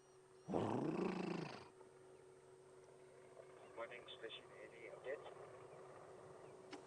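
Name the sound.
elephants calling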